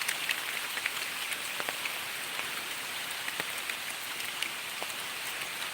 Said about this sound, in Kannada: ಗಾಳಿ ಸಹಿತ ನಮ್ಮಲ್ಲಿ ಮಳೆ ಅಂತಲೇ ಹೇಳಬೇಕಷ್ಟೇ ಇದನ್ನು